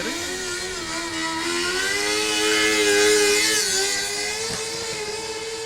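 A modified ATV quad engine straining during a pull competition, a loud sustained whining drone that climbs and wavers in pitch as it drags the load, steady and close throughout.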